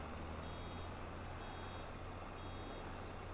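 Reversing beeps from a vehicle in Farming Simulator 22, a steady electronic tone repeating over a continuous low engine drone throughout.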